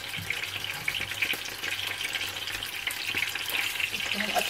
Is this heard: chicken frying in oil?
yes